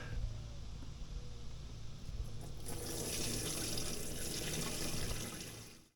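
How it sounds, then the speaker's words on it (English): Homemade natural weedkiller liquid poured through a filter outdoors, a steady close splashing trickle that grows brighter halfway through before stopping abruptly. "we're ready to pour this in carefully"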